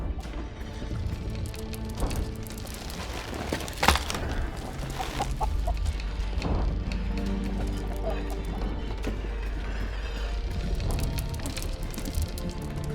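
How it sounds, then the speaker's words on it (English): An ordinary chicken clucks in the fantasy adventure game Argonus and the Gods of Stone, soft repeated clucks over a steady ambient game soundscape with a sharp clatter near the start, and a narrator's voice speaking. "Nothing of interest can be found on this ordinary chicken."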